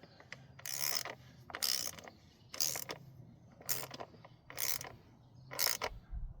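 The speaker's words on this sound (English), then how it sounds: "And then I'll use this ratchet just to make sure they're all evenly done." Hand ratchet tightening bolts during a core plug replacement on a 54-plate Ford Fiesta, close-up bursts of rapid clicking in about six even strokes with short pauses between them.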